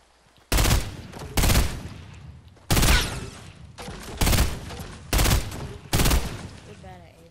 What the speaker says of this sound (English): Shots hitting.